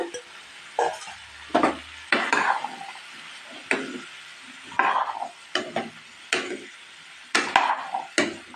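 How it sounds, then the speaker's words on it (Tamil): Half a kilo of radish stirred into cooked tomato gravy in a pan, with repeated scraping and knocking strokes of a spoon at an uneven rhythm over a soft background sizzle. "இப்போ நம்ம எடுத்து வச்சுருக்க 1/2 கிலோ முள்ளங்கியை அதில் போட்டு நல்லா மிக்ஸ் பண்ணிக்கலாங்க"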